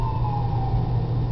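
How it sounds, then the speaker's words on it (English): A siren wails steadily in the distance in downtown Reno, its tone sliding slowly downward over a constant low rumble of city traffic in the morning. "you might hear sirens in the background"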